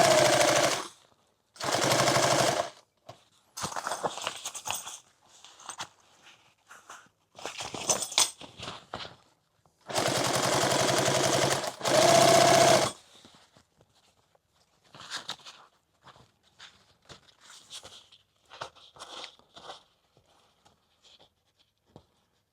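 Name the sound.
sewing machine stitching a padded helmet bag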